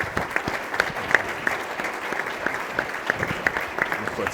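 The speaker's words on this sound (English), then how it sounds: "Can you join me in a round of applause for our panelists?" Audience at a panel event clapping in a round of applause for the panelists, dense sustained clapping close by with no pause.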